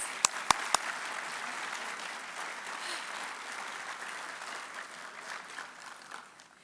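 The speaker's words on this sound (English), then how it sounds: "Please join me in giving all of these individuals a round of applause." An audience at a city's annual address gives sustained applause, a dense, steady wash of clapping that follows a few sharp claps at the start and slowly fades toward the end.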